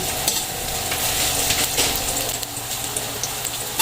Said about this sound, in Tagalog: Igisa ko muna yung sibuyas, bawang, luya.